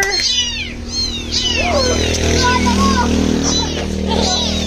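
Several cats meow repeatedly at close range, rising and falling cries, with people talking at the same time.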